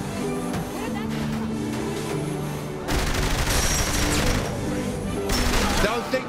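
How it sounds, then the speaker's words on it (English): Gunfire and bursts of shooting in Saints Row The Third Remastered, continuous dense game action with loud crackling shots and vehicle noise, rising in intensity midway and staying busy throughout. "Shooting them probably doesn't help change their minds."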